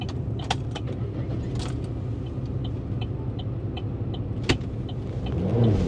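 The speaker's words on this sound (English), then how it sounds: "This car, it's not safe. This is not safe. It's like it's stuck in gear" A Domino's pizza delivery car stuck in gear drives along with a steady low engine and road rumble, faint jingling and clicks inside the cabin, and the engine swelling slightly toward the end; no talk.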